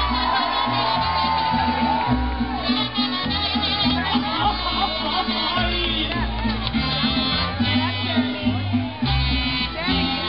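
A large crowd at a mariachi concert in Tenamaxtlán cheers, whoops and shouts loudly over sustained band music, a dense roar of voices carried through the whole stretch.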